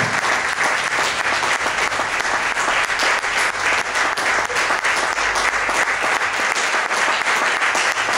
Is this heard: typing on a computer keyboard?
no